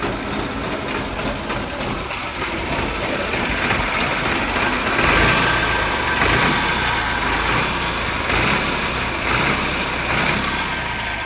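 A 2012 Mahindra Bhumiputra tractor runs with its PTO engaged, a steady diesel rumble with a rhythmic mechanical whir that swells slightly louder midway and holds close and constant, with no talk.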